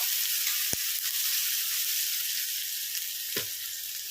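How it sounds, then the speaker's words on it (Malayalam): Chopped onion, ginger and garlic sauté in a hot pan with a steady, close hiss of frying, broken by two brief knocks of a utensil against the pan. "അപ്പോൾ ഇനി നമുക്കിതിലേക്ക് സവാളയും ഇഞ്ചിയും വെളുത്തുള്ളിയും കൂടി പൊടി പൊടിയായി അരിഞ്ഞതാണ് അതിട്ട് കൊടുക്കാം."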